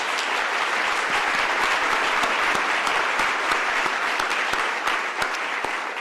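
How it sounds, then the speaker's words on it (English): Sustained applause from an audience at a spring closing meeting, dense and steady crowd clapping that fills the whole stretch without letting up. "Let's give a big round of applause to all of these teams."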